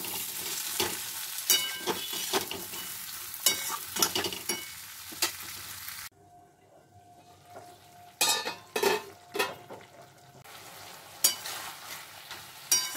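Ridge gourd and potato curry with black cumin gets stirred in a pan, a spoon scraping and clattering in irregular strokes over a soft sizzle, with a quieter pause midway before the stirring picks up again.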